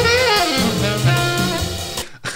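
Live alto saxophone bluesy lick, a bright sustained melodic line over a full band with bass and drums, loud and continuous before cutting off near the end.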